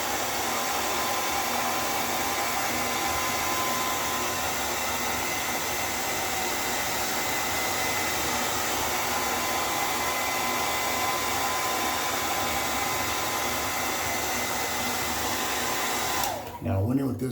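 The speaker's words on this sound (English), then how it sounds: "we're gonna straighten this up some with a blow dryer" A blow dryer runs at a steady, loud, unbroken whoosh for about sixteen seconds while a beard is straightened, then cuts off near the end.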